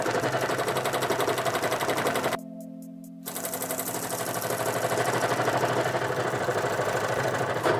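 A Union Special 11900 cover stitch sewing machine sews scrap material with a loud, rapid, machine-gun-like stitching rattle that stops briefly partway through, leaving a low hum, then resumes.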